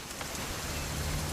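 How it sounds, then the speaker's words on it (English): Steady rain in the video game What Remains of Edith Finch, a dense even hiss of falling drops with a faint low rumble beneath, no voices. "It's gonna rain the whole weekend"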